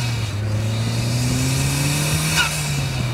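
An Ariel Atom sports car, hand-built in Britain, has its warmed-up engine revving loudly and close, one long sustained rising-and-falling drone with a brief sharp burst near the end, no talking.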